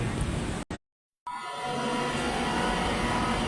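A train passes, heard from a walk out to watch trains. A loud, steady rumble and rush carry on close by, broken by a brief dropout near the first second, and then the roar continues at full strength.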